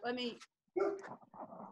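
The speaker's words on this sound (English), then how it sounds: "She's barking." A dog barks indoors in two or three quick, sharp bursts, close and fairly loud, with a brief gap between barks and a person speaking a few words alongside.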